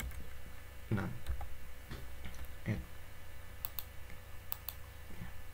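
Computer keyboard keystrokes and mouse clicks, scattered soft taps and a few sharper clicks at close range, with a brief spoken word and low background hum.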